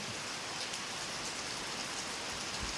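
Steady rain falls at night, a dense continuous hiss of drops on surfaces with no pauses, close and even throughout.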